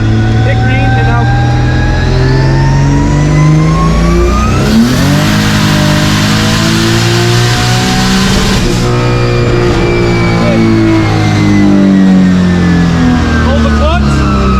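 A drift car's engine revs to full throttle on a dyno, a loud sustained roar with pitch climbing and sweeping across the run, heard close and continuous.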